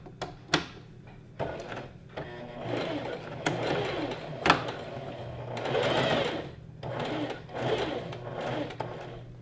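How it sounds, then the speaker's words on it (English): A sewing machine runs in short bursts, slowly stitching over pins while knife pleats are sewn for a maxi skirt, with distinct start-stop runs and mechanical clicks close by. "Just sew over them very slowly so that they don't hit the needle too fast and break your sewing needle"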